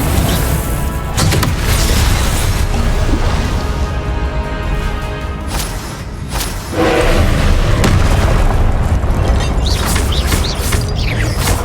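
Explosive Confringo spell blasts in Hogwarts Legacy combat, a dense run of loud booming bursts and crashes layered over constant spell effects and clatter, with no pause throughout.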